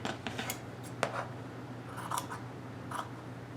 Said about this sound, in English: I've trimmed this off, trimmed this neckline out